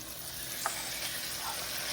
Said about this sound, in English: Now chicken is going in.